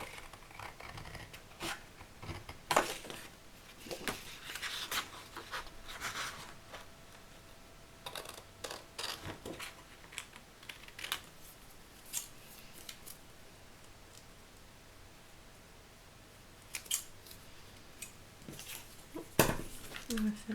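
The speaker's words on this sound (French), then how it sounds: "Je vais les couper au ciseau" Scissors snip through paper while a greeting card is made, a series of sharp, close cuts in irregular bursts, some in quick runs, with quiet pauses and soft handling between.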